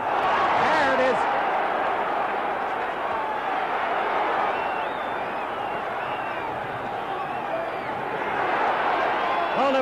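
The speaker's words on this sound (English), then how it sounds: "Crowd alive for a change." Boxing arena crowd at the Ali vs Bonavena fight roars in a steady, loud, continuous swell, with a commentator talking over the noise.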